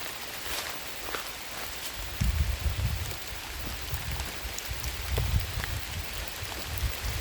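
Steady rain falls through a wild bamboo forest during a hunt for bamboo shoots, a broad continuous hiss with heavier low rumbling bursts and occasional close rustles or steps, no talking.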